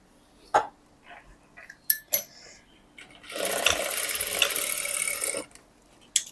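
Fabric pieces for blouse stitching are cut with scissors in a burst of crisp, rasping snips lasting about two seconds, preceded and followed by a few isolated clicks and taps, close and fairly loud.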